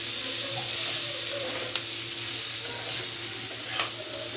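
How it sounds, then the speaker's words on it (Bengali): Potato and eggplant vegetable curry frying in a pan with the lid off, a steady close sizzle running throughout with soft stirring scrapes and a couple of brief clinks. "তরকারিটা ভাজা হয়ে গেছে।"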